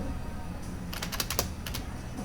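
Keys tapped on a computer keyboard in a quick burst of several strokes, then a short pause and a couple more, faint and close over a low steady hum.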